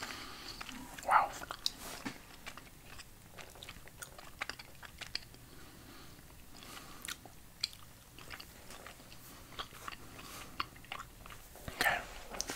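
Sour retro candy is chewed close to the mic, with soft crunches, sticky mouth clicks and small bites scattered through a quiet, intimate whispered setting, with faint rustling and occasional whispering.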